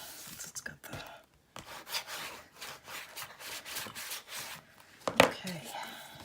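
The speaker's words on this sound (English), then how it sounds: "This one's a little easier to burnish" Paper being burnished onto a Stamperia Voyages Fantastique mini album page: close, repeated dry rubbing strokes in an uneven rhythm, with a sharper scrape near the end.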